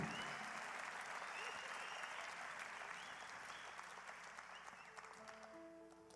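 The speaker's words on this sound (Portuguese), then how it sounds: "Uma salva de palmas para esse cara" Audience applause at a youth church service in Curitiba, a dense, steady clapping from a large crowd lasting the whole stretch and slowly thinning toward the end, with faint tonal sounds entering near the close.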